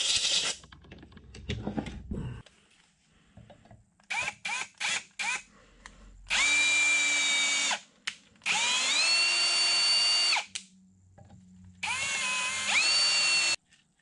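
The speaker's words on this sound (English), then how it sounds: "I'm going to go get my drill and get through these things a little bit faster" An electric drill cleans threads on parts of a Kearney and Trecker universal milling head. Several short spins are followed by three longer whirring runs with rising pitch, close up, with small clicks and handling noise between them.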